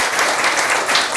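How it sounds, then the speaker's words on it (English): An audience applauds a guest speaker at a web performance talk, with dense, even clapping from many hands at a steady level throughout the brief moment. "Please applause for him."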